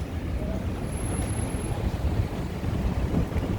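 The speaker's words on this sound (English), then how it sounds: "A little bit windy, hopefully you can hear me." Gusty wind buffets the microphone on St. Clair and Ontario Street in downtown Chicago, a loud, constant low roar with slight surges throughout, and no one speaking.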